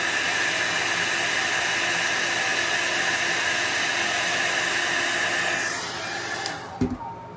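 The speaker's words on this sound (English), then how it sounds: "I'm going to put a little low heat on that, help dry it a little faster." Low-heat dryer blowing steadily on alcohol ink art, a loud continuous airy roar that holds for about six seconds, then cuts off, leaving a few faint clicks and handling noises.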